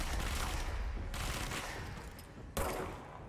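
Rapid bursts of gunfire from the video game Control, sustained dense automatic shooting with a fresh loud volley near the end, close and loud with no voices over it.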